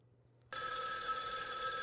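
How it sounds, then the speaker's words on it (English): A phone starts ringing abruptly with an incoming call during a podcast, a loud, continuous bright electronic bell tone that breaks a near-silent moment and holds steady to the end. "Oh, I'm getting a call."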